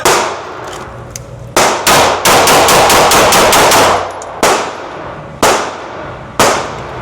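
Gunfire at an outdoor range during an armed guard qualification day shoot: loud, sharp shots, a rapid string of evenly spaced rounds in the middle and single spaced shots before and after, with no talking.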